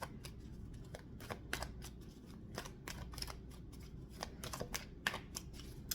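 Tarot cards being shuffled by hand, a quiet run of crisp riffling bursts repeating at an irregular pace with no voices.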